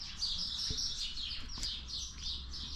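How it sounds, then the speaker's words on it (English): Small birds chirp outdoors on a farm, quick bright tweets repeating in a lively cluster, fairly close and moderately loud over a soft background hiss. "Hi, birdies."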